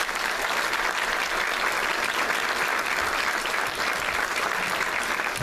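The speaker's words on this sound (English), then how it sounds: "If you guys can give them a round of applause, I think they've done a great job." Steady, even applause from a debate audience for primary election candidates, a dense wash of clapping hands throughout with no speech.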